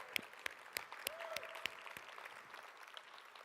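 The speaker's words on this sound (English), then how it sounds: "So keep clapping for all the sponsors and exhibitors that you've been seeing over the last 2 days" A handful of scattered, faint claps from a small conference audience at the Synapse Summit, spaced unevenly through the first two seconds before fading into quiet room tone.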